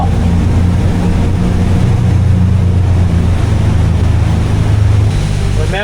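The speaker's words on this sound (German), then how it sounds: "Die Maschinen sind warm und Frank hat gerade Gas gegeben und wir hinterher." A houseboat's engines run steadily at speed on the water near Den Helder, heading toward Texel, as a continuous loud low drone with the wash of water around the hull.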